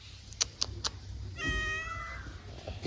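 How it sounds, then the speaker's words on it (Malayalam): A cat gives one clear, drawn-out meow close by, preceded by a few soft clicks and taps in an otherwise quiet room. "ഞാൻ ആദ്യമായിട്ട് കാണുന്നൊരു പൂച്ചയാണ്"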